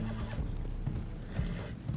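A horse in the Red Dead Redemption 2 video game whinnies over the steady clip-clop of hooves, with a continuous low rumble of movement throughout.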